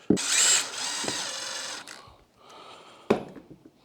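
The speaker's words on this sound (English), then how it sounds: "I'm just going to drill them so they're just sticking out the bottom a little teeny bit" A power drill whirs in two bursts driving 2.5 inch deck screws into the wood of a small stool, the first long and loud, the second quieter, with sharp clicks where each burst starts and stops.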